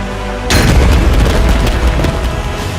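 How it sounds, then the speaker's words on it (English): Bombs explode in a video game battle: a sudden loud boom hits, then a heavy, sustained rumbling roar with crackling debris continues to the end. "Bombs incoming from above."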